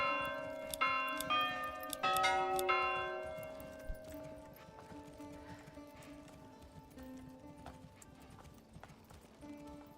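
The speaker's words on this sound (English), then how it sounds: "That bell isn't loud enough." Several quiet, ringing bell strikes close together in the medieval city-building game Manor Lords, set against soft clip-clopping hooves and ambient game sounds.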